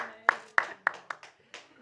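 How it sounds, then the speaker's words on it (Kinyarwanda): An audience claps for a young singer, several distinct, fairly loud hand claps spaced unevenly, with a voice speaking over them. "amashyi menshi kuri gigizede"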